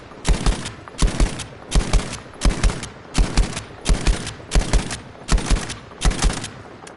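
A close-quarters gun in Battlefield 5 fires about ten short bursts at an even rhythm, each a loud, close clatter of rapid shots separated by brief pauses.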